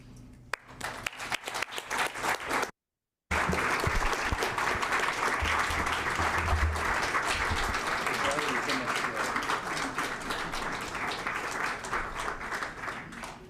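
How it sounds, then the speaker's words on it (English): A city council meeting audience claps for fleet employees, beginning with scattered claps that swell into steady, sustained applause after a short silent break. Talk is heard alongside the clapping. "Let's applaud our fleet employees"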